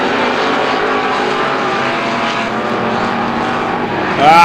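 Strictly stock race cars running at Star Speedway, a loud continuous roar of several engines packed together on the track, with a rising whine from one car near the end.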